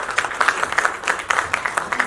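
Crowd at a Bhojpuri OTT platform launch event clapping loudly, a brief, lively burst of applause with a slightly rhythmic, pulsing feel.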